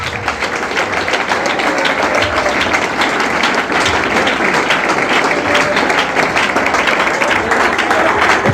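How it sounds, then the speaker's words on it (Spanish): A church congregation applauds steadily, a dense, sustained wash of many hands clapping in a hall, loud and even from start to finish. "denle aplauso al Señor por ellos"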